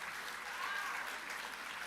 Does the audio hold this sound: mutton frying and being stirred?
no